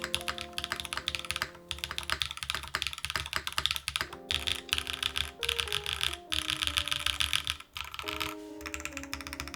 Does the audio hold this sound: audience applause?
no